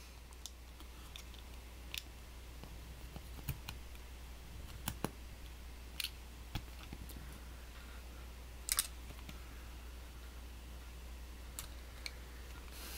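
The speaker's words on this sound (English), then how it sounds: "I like removing these screws." Small screws being worked out of a Krasnogorsk 3 film camera while the loop formers are removed, heard as sparse faint clicks and tiny metallic ticks over a quiet hum, close up with no speech.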